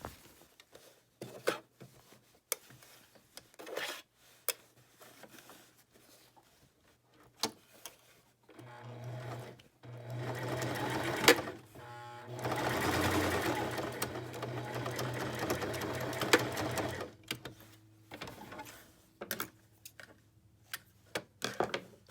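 A sewing machine stitches a fabric scrub hat with elastic garter, running in a steady whirring stretch of several seconds between quieter pauses, with a person talking around it.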